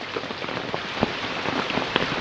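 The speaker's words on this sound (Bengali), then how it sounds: "এখন বাইরেতে হচ্ছে বৃষ্টি, তোমাদেরকে একটু দেখাই" Heavy rain pours outdoors along a road in the Sundarbans region, a steady dense hiss with scattered louder drops and splashes close by, no voices.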